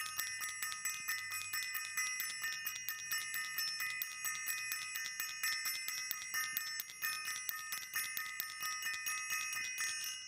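A bright, high metallic bell rings rapidly and continuously, its clear tone sustained over a quiet background with no speech.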